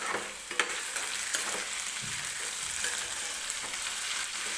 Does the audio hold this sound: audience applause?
no